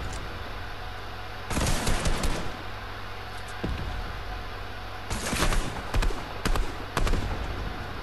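A rocket launcher fires in Fortnite, with three or four loud blasts and bursts in two clusters separated by quieter game ambience.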